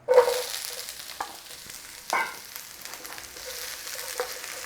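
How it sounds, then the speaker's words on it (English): Bell peppers being stir-fried in a pan for a beef and pepper stir fry, a soft hiss of frying with a few scraping stirs and clatters, close and moderate in loudness, no talking. "A little stir fry on the peppers."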